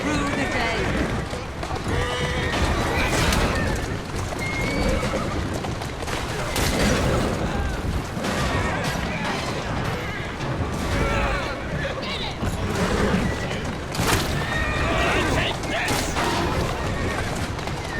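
In the video game Assassin's Creed Syndicate, horse-drawn carriages race through the streets. Loud, continuous hoofbeats and rolling wheels clatter through the whole stretch, with characters talking over them.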